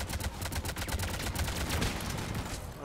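Rapid automatic gunfire aimed at turrets in the video game Mass Effect 3, a dense, steady stream of close shots lasting throughout with only slight variation.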